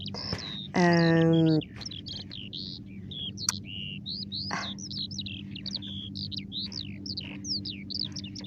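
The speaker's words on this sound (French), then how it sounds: "je ne sais pas si vous entendez l'oiseau qui est juste au-dessus là" Birds chirp and tweet continuously overhead in bright, quick calls, with a louder tonal burst early on over a low steady hum.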